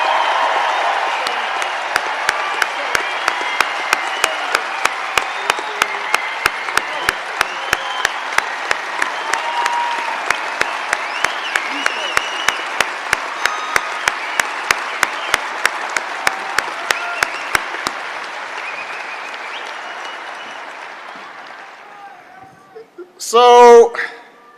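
Sustained audience applause at the 20th annual Lake Tahoe Summit, held on the lakeshore, a dense even wash of clapping for about twenty seconds that fades out, followed by a brief burst of noise at the end.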